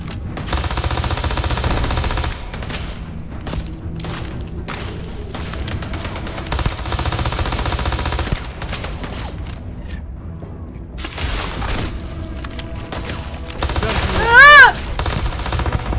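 Video game gunfire: bursts of loud automatic shooting and booms come in several blocks separated by brief pauses, with a sharp mechanical whine near the end.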